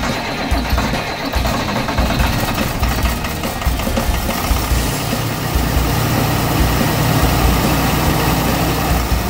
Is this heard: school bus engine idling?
yes